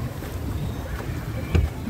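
Pedal boat out on the lake at Sims Park, Coonoor: steady low water and wind rumble around the boat, with a brief louder splash or knock near the end and faint voices in the background.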